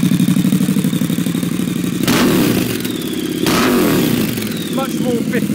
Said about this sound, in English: there's much more bark to the Vance and Hines. Even at idle, a bit more character.